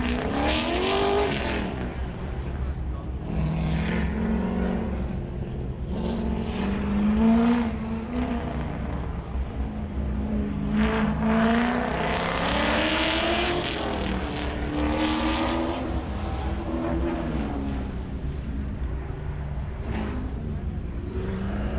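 A 2002 Chevrolet Corvette on an autocross course revs up and down repeatedly, engine pitch climbing and falling with each shift and corner, fairly distant, under a commentator's voice.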